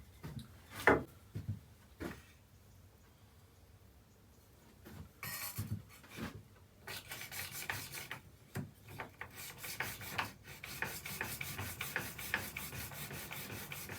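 Hand plane blade honed on a sharpening stone, steady rasping rubs and scraping strokes continuing through most of the stretch, with a few sharper knocks early on, close up and moderately loud, no talking.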